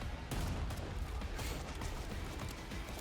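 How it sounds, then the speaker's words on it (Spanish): Pistol shots ring out in the VR shooter game Forefront, a quick series of sharp reports over a dense wash of battle noise that lasts throughout. "Disparo con la pistola"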